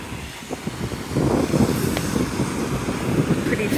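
Wind buffets the microphone on a sunny beach while surf rumbles steadily underneath, growing louder and rougher after the first second and staying constant throughout, with no voices.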